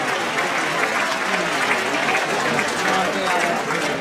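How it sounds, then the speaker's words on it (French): Sustained applause from a crowd for Zoé at the Journées Buchard 2016 event, steady and dense throughout with no pause. "encore un gros applaudissement pour Zoé"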